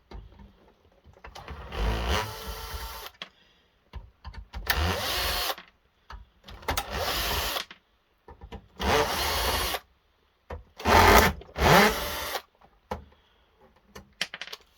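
Power drill whirs in repeated bursts of one to two seconds with short gaps between, up close, as screws are backed out of a Sky+ HD satellite box during a teardown.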